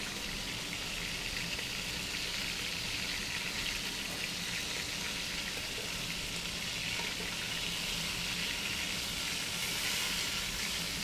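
Meat browning in a hot pan, a loud, continuous close sizzle and hiss of frying that holds steady without pause.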